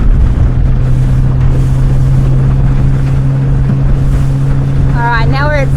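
A Highfield 390 Sport boat motors through a wake, its steady loud engine drone carried under constant wind and water rush, with a brief high whistle-like tone near the end.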